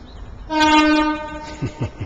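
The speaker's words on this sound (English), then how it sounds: "Just to prove we're at a railway station, in case you were wondering. That one's off to Bournemouth." At a railway station, a train bound for Bournemouth sounds a loud, sustained two-tone horn close by, followed by rumbling wheel and rail noise as it passes.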